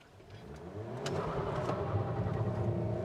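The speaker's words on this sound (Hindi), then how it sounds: "मैं एक बार व्हील स्पिन करने की कोशिश करता हूँ।" The engine of a CNG-powered car revs up during a wheel spin, rising from a low idle to a sustained loud roar. It is heard close up, with no talking over it.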